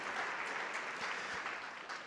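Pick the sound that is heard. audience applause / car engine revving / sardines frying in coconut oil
audience applause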